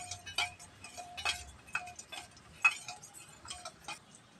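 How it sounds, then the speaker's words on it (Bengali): A spoon stirring asafoetida with water in a small bowl, making light rapid clinks and ticks against the sides in an uneven rhythm, close and fairly quiet, with no talking. "এর মধ্যে জল দেবো, জলটা দিয়েও হিংটা ভালো করে গুলিয়ে নেবো।"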